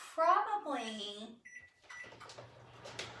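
A microwave oven heating butter gives a short electronic beep, then a low steady running hum. A voice talks just before the beep.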